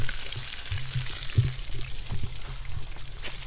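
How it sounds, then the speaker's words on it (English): Meat cooks outdoors in a jungle setting with a steady sizzle and hiss, joined by some low bubbling and pouring-like liquid sounds, fairly close and continuous. "Look at the meat that's still cooking up."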